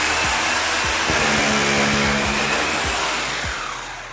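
An electric drill fitted with a 6 mm bit bores holes into a wall to mount an LED tube light fitting, giving a steady, loud motor whine with faint rhythmic ticks and no talking.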